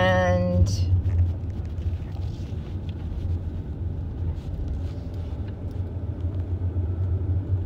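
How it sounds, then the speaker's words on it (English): A car being driven, heard from inside the cabin as a steady low engine and road rumble with some wind, running continuously on its own. "So I'm driving now."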